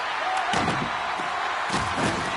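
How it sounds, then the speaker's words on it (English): Body check hit during an ice hockey game between Poland and an opponent: a heavy thudding slam against the boards, with a second impact following, over steady arena crowd noise. "Can't stay on his feet after that hit."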